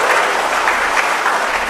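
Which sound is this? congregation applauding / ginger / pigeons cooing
congregation applauding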